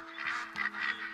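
A flock of goldeneye and mallard ducks quacks in quick, overlapping bursts in a hunting video game, a busy, moderately loud chorus of calls with a steady hum underneath.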